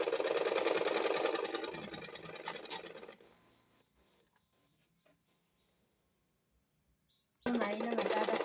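A sewing machine stitches fabric piping in a fast, steady run for about three seconds, winds down to quiet, then starts again loudly near the end.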